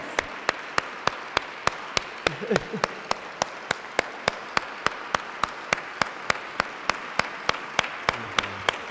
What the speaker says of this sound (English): Please receive Minister Louis Farrakhan with a warm round of applause